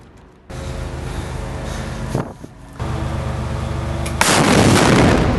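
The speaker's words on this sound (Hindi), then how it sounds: "इजरायली सेना के टैंक पर रॉकेट लॉन्चर से हमला कर देता है, जिसमें जोरदार धमाका होता है।" A rocket launcher strike on an Israeli tank in Khan Yunis, Gaza: heavy rumbling blasts and a roaring, noisy roll of sound that swells in loud bursts, with a sharp crack near the end before a dense, hissing roar.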